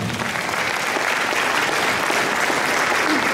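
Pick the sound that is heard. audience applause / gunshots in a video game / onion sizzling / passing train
audience applause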